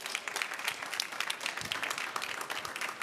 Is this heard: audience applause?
yes